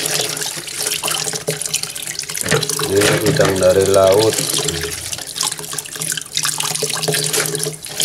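Sea shrimp (udang pletok), mixed with a small crab, being rinsed under a running kitchen tap: a steady splashing rush of water that swells midway, with someone talking over it throughout.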